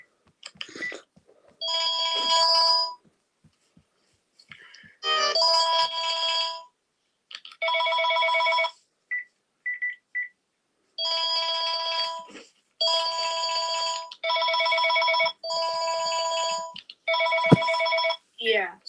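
An old American telephone bell rings in repeated metallic bursts with short silent gaps between them, loud and close, with a few brief tones interspersed.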